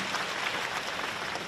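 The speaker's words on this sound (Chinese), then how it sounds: "鼓掌。" An audience at a gathering in Johor Bahru claps together in a brief, even burst of applause that sounds fairly distant and soft.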